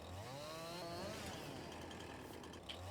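Chainsaw from the video game Farming Simulator 22, a steady buzzing engine drone cutting quickly through logs, continuous and fairly quiet over about three seconds with no talking.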